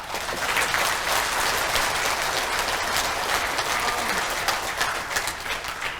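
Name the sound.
audience applause in honour of fallen comrades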